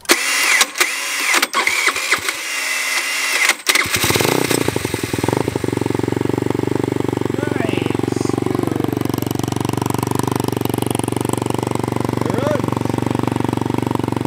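A TaoTao GY6 scooter with a 150cc carburetor on an 80cc big bore kit cranks with a jump pack, sputters through a few short bursts, then catches and idles loudly and steadily up close.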